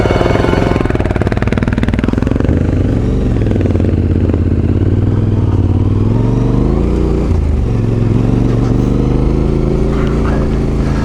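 Three adventure motorcycles riding a rocky, loose track, engines loud and close, a steady rumbling drone that rises and falls as the riders work the throttle.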